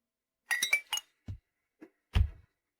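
Glasses clink together during a toast at a shared meal, several quick bright chinks up close followed by a few duller knocks and taps, with no talking.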